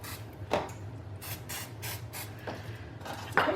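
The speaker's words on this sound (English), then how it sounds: "I'm going to go ahead and spray them a little bit more in those little spots" Several short, soft hissing bursts of oil spray onto avocado fries, spaced a second or so apart, close by over a low air fryer hum.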